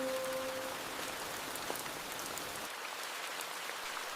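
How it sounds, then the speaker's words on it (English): Steady rain patters on leaves above an ant nest, a dense even hiss of drops that eases slightly toward the end, with no voices. "rain begins to strike the leaves"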